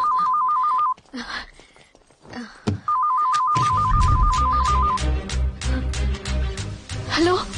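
A telephone rings in a dramatic action film scene, its repeating electronic ring tone heard in two bursts over music and background effects.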